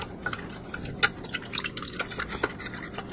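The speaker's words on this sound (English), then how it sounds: "Now what we're going to do is take it all and stir it up." A spoon stirs wet bread dough ingredients, milk with salt, in a bowl, giving soft irregular liquid swishes and light clinks close up, with no talking.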